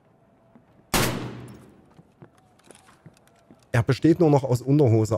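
A single loud, close shotgun blast in the shooter Escape From Tarkov Arena, ringing out and decaying over about a second, followed by faint distant pops and then someone talking in German.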